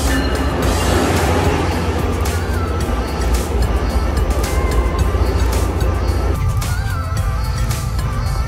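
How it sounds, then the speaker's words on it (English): An Amtrak Acela train arriving at a Philadelphia-area station platform, a loud continuous rumble of rolling wheels and rail noise with faint squeals, steady throughout and shifting near the end as it slows. "Here comes our train, the Acela."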